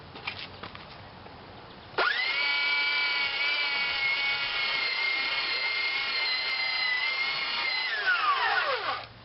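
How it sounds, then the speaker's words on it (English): A belt sander grinds along the runner of a household wheelchair ramp: a loud, shrill, steady whine that starts abruptly after a quieter stretch, holds for about seven seconds, then winds down. "So what works good for this is a belt sander."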